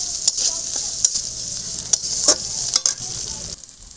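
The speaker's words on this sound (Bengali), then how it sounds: "এবার আমি ভালো করে নেড়ে ছেড়ে এগুলো ভেজে নেবো" Garlic, green chili and onion fry in a pan with shrimp, giving a steady close sizzle broken by sharp scraping stirs and clicks of the spatula.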